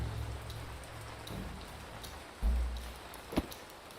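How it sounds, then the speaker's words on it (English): Steady rain falls in the Ancient Cities survival city-builder game, a constant broadband patter with a low rumble underneath and a couple of louder thuds near the end, and no voices over it. "The rain sounds nice."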